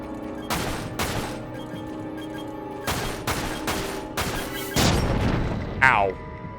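Gunfire while shooting enemies in the video game Dirge of Cerberus: Final Fantasy VII: several loud, sharp bursts of shots spread unevenly across the moment, with a brief whooshing effect near the end.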